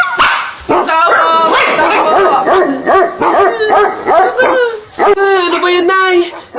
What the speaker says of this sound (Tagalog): Nakakatakot naman yung mga tahol na aso.